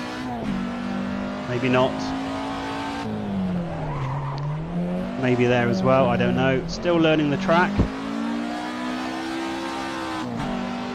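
An old Ford Escort slides around a race track, its engine droning and shifting in pitch through revs and tire scrubbing, loud and close beneath someone talking throughout.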